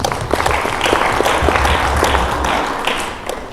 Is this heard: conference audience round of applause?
yes